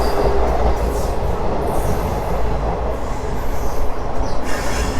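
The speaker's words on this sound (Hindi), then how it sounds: "ये ट्रेन अभी जा ही रही है।" A local train on the Delhi line near Anand Vihar rolls loudly past, the rumble of wheels and cars filling the scene, with squealing wheels and a continuous roar throughout.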